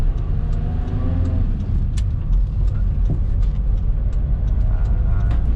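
A car with a turbo engine drives and accelerates through the higher gears, giving a loud, steady engine drone with rising tones and road rumble heard from inside.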